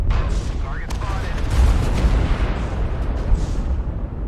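A mech component blown off in the MechWarrior Online game, a loud booming explosion inside dense, continuous battle noise with rumbling low end and scattered impacts.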